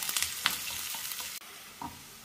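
Small red onions crackle in hot oil with dried chillies and curry leaves while being stirred, the frying loud for over a second before cutting out abruptly, followed by a faint knock in near-silence.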